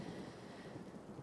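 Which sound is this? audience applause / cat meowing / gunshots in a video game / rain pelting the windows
rain pelting the windows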